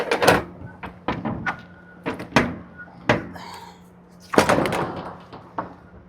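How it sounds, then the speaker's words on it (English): Truck trailer doors being opened at a paper company dock after a drop and hook: a series of sharp metallic clanks and thuds, some close and loud, ending in a longer rattling scrape. "So let's get these doors open."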